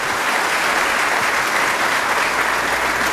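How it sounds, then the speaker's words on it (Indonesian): Sustained applause from an audience at an official ceremony for cadets interning at Nusakambangan prison, a dense steady clatter of many hands filling the room at constant loudness with no break. "tepuk tangan untuk kita semuanya"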